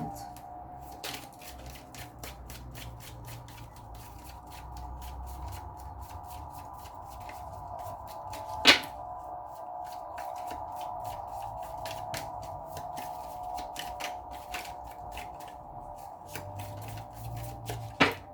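Tarot cards shuffled by hand in a rapid, continuous riffle of crisp flicking taps, close and fairly quiet over a steady background hum, with one sharper slap partway through.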